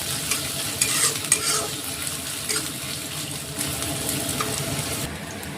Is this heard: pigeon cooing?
no